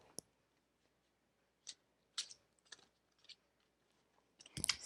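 A deck of oracle cards being handled and shuffled, heard as sparse soft clicks and brief papery snaps in a quiet room, with a sharper flurry near the end.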